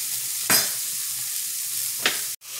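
Onion frying in a pan, a steady close sizzling hiss broken by two brief scraping stirs, with no talking.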